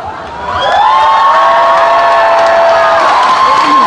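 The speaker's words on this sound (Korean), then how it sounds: "박수와 함성" At a summer water-festival trot concert in Jangheung, the crowd bursts into loud applause and cheering that swells within the first second, then holds as a sustained roar with shouts and whoops layered over the clapping.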